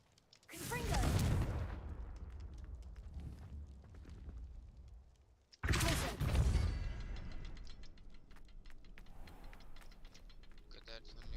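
Two Confringo fire spell blasts in Hogwarts Legacy, each a sharp loud burst that decays into a crackling rumble, the second arriving about five seconds after the first, with a voice talking quietly between them.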